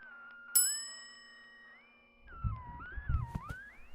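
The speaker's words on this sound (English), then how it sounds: "It looks like there's a bell on the desk." A desk bell gives one bright, ringing ding that fades slowly over a steady eerie synth drone. A rumbling, shifting low noise then builds beneath wavering tones.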